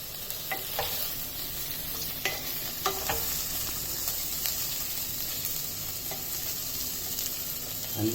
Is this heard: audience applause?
no